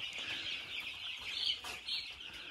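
Five-day-old chicks in a brooder barn make a dense, continuous chorus of high peeping and soft clucking. The sound is fairly quiet and steady, with faint background noise and no talk.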